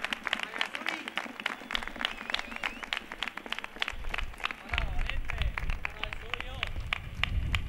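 Audience applause at a carnival proclamation in Gines, a steady dense patter of clapping from a seated crowd that swells louder in the second half, with a voice speaking over it.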